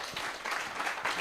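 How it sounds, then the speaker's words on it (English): Brief burst of audience applause for a panel at a live breakfast-show event, a broad wash of clapping that fades out abruptly at the end. "Round of applause for the panel."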